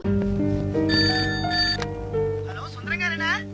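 An electronic ringtone plays from a telephone in a comedy scene, sounding as bright repeating melodic tones that fill the whole stretch, with a voice briefly heard near the end.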